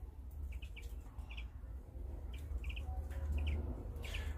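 Canaries and greenfinches in an outdoor aviary, bursts of short high chirps repeating every second or so over a steady low background rumble.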